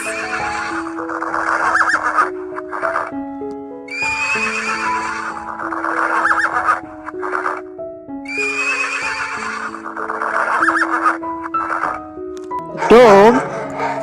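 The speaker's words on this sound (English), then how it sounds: "horse" A horse neighs again and again in loud, close whinnies, with repeated shrill calls dropping in pitch, some faint hoof clip-clop and a short burst of a different animal sound at the end.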